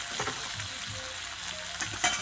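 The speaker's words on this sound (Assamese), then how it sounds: "তাৰপিছত হালধি দি লৰাই ল'লোঁ।" Chicken pieces fry with turmeric in a pan, a strong, steady sizzle broken by scraping, clattering stirring strokes, heard close and without speech.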